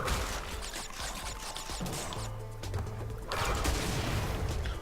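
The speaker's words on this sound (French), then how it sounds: "On explose les nitros." Nitro crates blow up in Crash Bandicoot N-Sane Trilogy with a dense burst of crackling explosions over game music, the blasts swelling again near the end.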